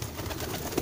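Pet pigeons coo softly at close range, a short low burble with one slightly louder note near the end, no voices.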